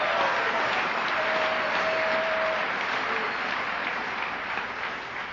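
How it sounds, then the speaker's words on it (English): An audience claps steadily at a talk by a recovering alcoholic, a dense even wash of applause that holds at full strength and fades only slightly over a few seconds, with no voices. "You're clapping for yourselves."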